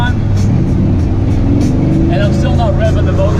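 An LS3 V8 swapped into a 1955 Chevy Nomad rumbles with a low, throaty idle-to-mid-rev drone that rises and builds toward a kick, loud and close with someone talking over it.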